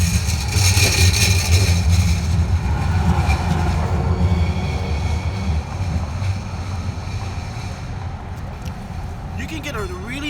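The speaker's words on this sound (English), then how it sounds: "but here's the train." A train passing at night in San Jose, a loud broad rumble at the start that slowly fades as it moves away, with a brief faint voice near the end.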